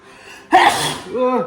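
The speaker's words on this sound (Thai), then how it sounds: "จะจามเลย" A single loud sneeze bursts out close by after a quiet moment of household background, followed by a short breathy vocal sound, with speech nearby.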